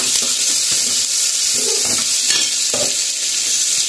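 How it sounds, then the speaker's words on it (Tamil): Dried red chillies fry in hot oil for a hotel-style breakfast, making a loud, constant close-up hiss and crackle with a few faint stirring scrapes. "காஞ்ச மிளகா நல்லா எண்ணெயில் வறுத்துடணும்."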